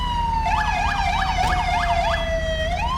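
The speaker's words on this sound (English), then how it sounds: "I apologize for the siren right now." A loud wailing police siren in the video game GTA 5, with a rapid yelping pattern, steady and close, continuous throughout with no voices.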